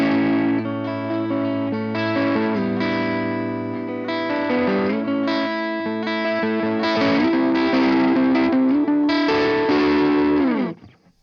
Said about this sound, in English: So the middle pickup with the overdrive.